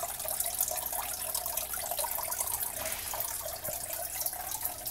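Water streams steadily from a hose fed by a goldfish tank in an aquaponic pond setup moved into a shed for winter, a continuous close trickling wash with no talking.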